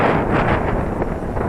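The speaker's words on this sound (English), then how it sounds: "Yeah, a lot more wind now." Strong outdoor wind roars steadily and loudly across the microphone throughout, a continuous broadband rush with no other clear sounds, in a gusty open field where a small Eachine Mini Mustang P51D RC plane is flying.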